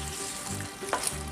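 Sundae (Korean blood sausage) is stir-fried with vegetables in a pan, giving a close, continuous sizzle with a brief stirring scrape.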